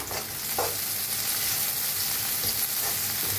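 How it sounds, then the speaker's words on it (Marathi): Chopped onion sizzling as it fries in hot oil in a kadai, a steady dense hiss throughout with a couple of brief stirring scrapes. "कढाईत तेल चांगलं तापलंय त्याच्यात टाकूया आपण कांदा आता भाजून घेऊया कांदा"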